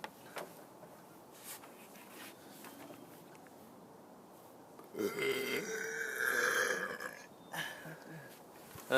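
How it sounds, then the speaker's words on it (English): A long, loud burp from a person rises in the middle of the stretch and drags on for a few seconds, with quieter breathy noises before and after. "You want to hear how loud these burps are to me?"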